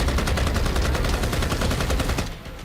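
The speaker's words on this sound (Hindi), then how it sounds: "शूटर्स ने 2 अत्याधुनिक ऑटोमेटिक पिस्टल से 6 राउंड फायरिंग की।" Rapid burst of gunfire from two automatic pistols, six rounds fired by three shooters outside an office in a street attack, dense loud cracks running almost continuously before cutting off sharply near the end.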